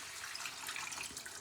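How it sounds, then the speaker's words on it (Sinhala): Water added to a cooking mixture while making lunch, a steady close hiss of running, splashing water filling the whole brief moment without pause. "ඇතිපම්මට වතුර දා ගන්න ඕනේ."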